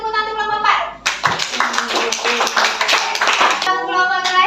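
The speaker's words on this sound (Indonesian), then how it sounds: "beri tepuk tangan untuk kelompok 4" Classroom applause for a student group, a burst of many hands clapping lasting a few seconds, with children's voices audible before and after it.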